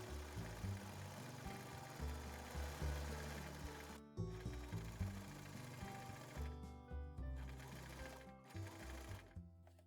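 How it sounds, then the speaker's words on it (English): A sewing machine runs a zigzag stitch close to a fabric edge, steady mechanical whirring and rapid needle clatter with a couple of brief pauses, up close. "If you don't have this foot, you can do a zigzag stitch close to the edge."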